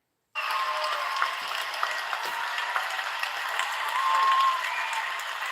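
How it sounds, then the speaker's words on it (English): Canned cheering and applause added as a sound effect, a steady wash of clapping and crowd noise starting abruptly after a brief silence and running on evenly at moderate level, swelling slightly near the end. "she even put the cheering thing on there"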